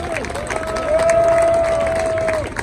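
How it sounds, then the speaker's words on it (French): A crowd at a Paris rally at Place de la République applauds and cheers, with a sustained tone running over the clapping and a swell in the middle. "applaudissez-les s'il vous plaît"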